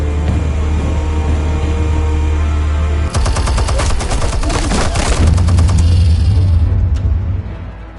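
Explosives and rapid gunfire erupt in a Batman video game, a dense burst of crackling shots and blasts breaking over a low droning background, then fading out.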